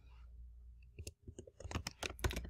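Keys on a computer keyboard tapped to type a word, with a quick run of light, close clicks that builds to a steady patter.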